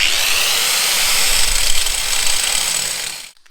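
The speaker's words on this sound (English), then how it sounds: "Just a quick shout out to my angle grinder." An old Ryobi angle grinder, about 16 or 17 years old, cuts steel with a loud, continuous high-pitched whine and grinding roar close by, holding steady for about three seconds before abruptly cutting off.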